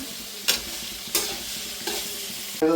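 Ingredients for kalan sautéing in a pan, a continuous close sizzle broken by three or four sharp spatula scrapes at regular intervals, with no voices present.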